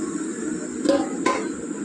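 A metal lid is set onto a cooking pot of rava snack with two quick clinks, close and fairly sharp, against a steady background hiss.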